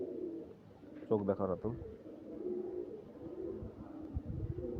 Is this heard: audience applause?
no